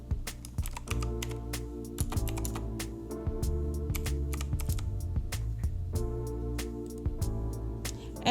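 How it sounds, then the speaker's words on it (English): Someone types a word on a computer keyboard at close range. The keystrokes come in quick, uneven bursts of crisp clicks with short pauses between them. "So I'm going to type in a word."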